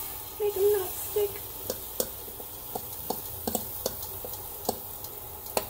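Butter sizzling in a hot pan while pancakes fry, a faint steady hiss with a few soft scraping stirs early on and scattered sharp ticks and pops throughout.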